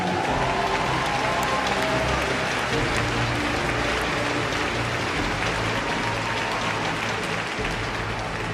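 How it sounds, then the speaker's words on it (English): Applause from a crowd at the SKYCITY New Zealand Open women's singles final, a dense, sustained clapping that stays loud and even throughout, alone without talk. "a round of applause for the winner and runner-up in the women's singles final"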